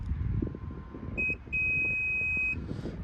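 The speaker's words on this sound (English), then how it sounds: "push and hold it for the first set of beeps" A high electronic beep sounds briefly, then a longer steady beep follows, over low rumbling background noise, as the liftgate height is set on a 2021 Mazda CX-5.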